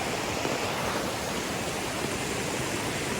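Seven Sisters Waterfall (St. Margaret Falls) in Grenada roars with a steady, broadband rush of falling water and flowing river, loud and close, unbroken throughout with no voices.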